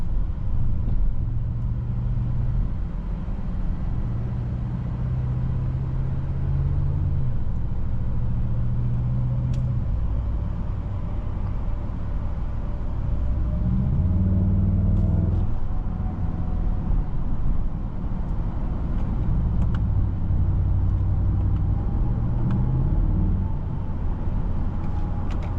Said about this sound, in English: You put your foot down and it'll pick up and go.